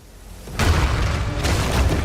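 Explosions from the Warhammer 40,000 video game Space Marine 2: after a quieter lead-in, a loud broadband blast erupts into sustained rumbling, with a second surge near the end.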